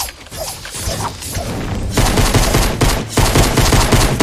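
Gunfire in Fortnite comes in loud, rapid bursts of shots alongside mechanical clicks and clatter; the bursts get denser and heavier in the second half.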